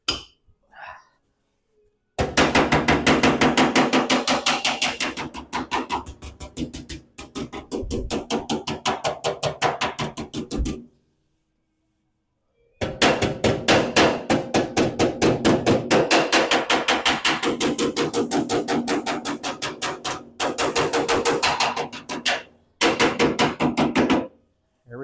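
Rapid metal hammering on a belly tank racer build, dense bursts of ringing blows lasting several seconds each, broken by short pauses, loud and close.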